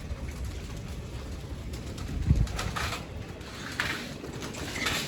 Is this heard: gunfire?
no